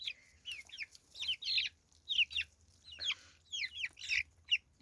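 Chicks cluck and chirp in quick, busy bursts while eating fish, several birds close by with short pauses between the flurries of calls.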